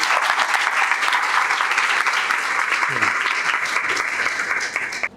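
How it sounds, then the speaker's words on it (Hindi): Applause from an audience at a coaching class event, a dense sustained clatter of many clapping hands that stays loud throughout before cutting off abruptly at the end. "तो इस इनोवेशन के लिए तालियां तो होनी चाहिए यार"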